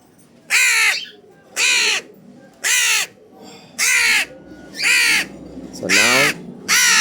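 A young crow caws loudly and close by in a steady series of seven harsh calls about a second apart, with no other sound between them.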